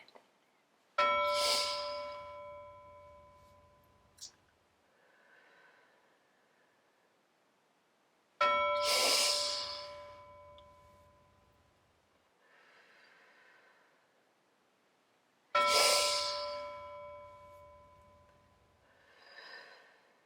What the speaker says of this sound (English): pretend to smell a flower and inhale and then slowly exhale by pretending to blow out a candle